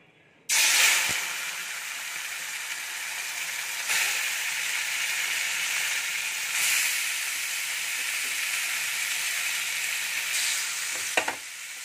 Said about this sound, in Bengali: এবার ওই আলু ভাজার তেলের মধ্যে আমি ম্যারিনেট করা লোটে মাছগুলো দিয়ে দেব